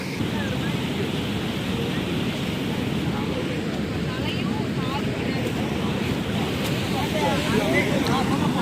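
Water rushes steadily past a fenced viewpoint on a hill-station trip in Kodaikanal, a continuous broadband roar that holds level and fairly loud throughout with some wind buffeting mixed in.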